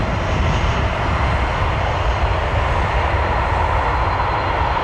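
A jet airplane departs a runway at O'Hare airport, its engines a loud, steady, broad roar rumbling continuously for several seconds with no voices.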